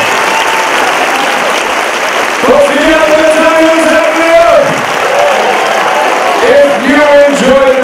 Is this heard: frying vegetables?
no